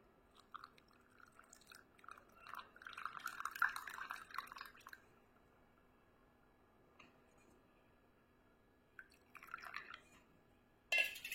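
Boiled water poured into the upper chamber of a coffee filter over two spoons of coffee powder: faint, close trickling and dripping in a few short bursts, with long quiet gaps between.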